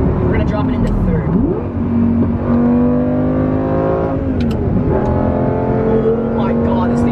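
A manual Lamborghini Gallardo V10 pulls hard in third gear, its loud close engine note climbing in rising sweeps with brief dips between pulls, while people talk over it.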